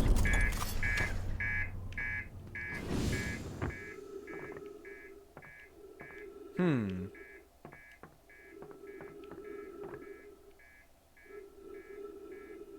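Repeated short electronic beeps from an alarm in the Outer Wilds video game, evenly spaced and persisting through the stretch, with a sweeping tone and low game sounds underneath.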